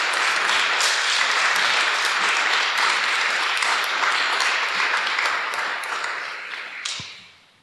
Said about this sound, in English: Can we give a round of applause to our speakers?